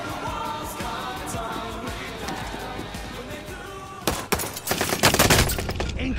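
Incoming gunfire in a video game, a steady rumble of distant shots and ambient battle noise that swells into louder, sharper cracks and impacts toward the end.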